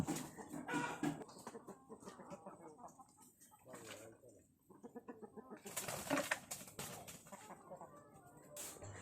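Chickens drinking buttermilk cluck and squawk close by, with a scuffle between two birds; the calls come in bursts over steady farmyard noise, with voices in the background.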